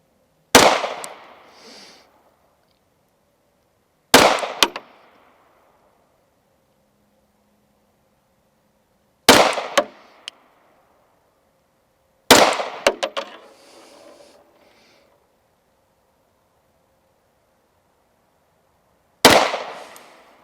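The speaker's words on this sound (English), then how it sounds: "here we go, 5 shots rested from a distance of 15 yards" Five shots from a rifle fired from a rest at 15 yards ring out as sharp, loud cracks spaced several seconds apart, each with a brief echoing tail and silence between.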